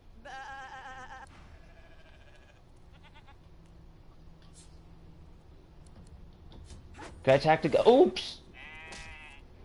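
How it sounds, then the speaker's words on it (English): Close, high-pitched sheep bleats in the video game Divinity: Original Sin 2, one at the start and more later, while a person talks loudly over them. "Oh, there's a sheep."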